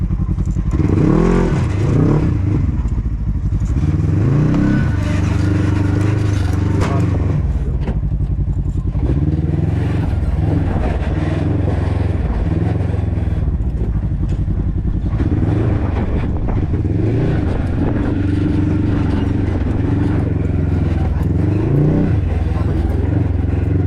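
A rock crawler's engine drones and revs loudly and close throughout a ride, rising and falling in pitch, with rattles and clatter and occasional voices underneath.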